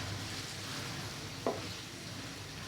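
Finely chopped onion frying in hot oil makes a quiet, steady sizzle with a single brief clink or scrape midway, close and without any voices.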